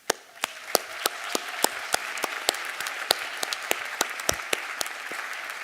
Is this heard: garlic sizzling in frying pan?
no